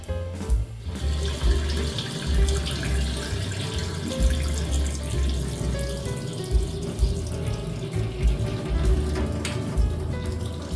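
Easter egg dye water from a dollar store kit pours and splashes into a sink in a continuous, fairly loud rush with no talking.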